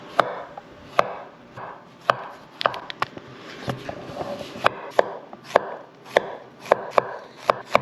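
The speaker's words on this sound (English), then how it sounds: "we're going to cut up our vegetables now" A very sharp kitchen knife chops vegetables for an Italian frittata on a cutting board, close crisp knocks arriving at an irregular steady pace with quiet scraping between, no voices.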